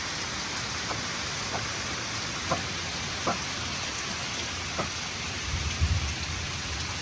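Steady rain falling on a boat at anchor, with a few faint distant rumbles and light taps, and a low thunder roll building near the end.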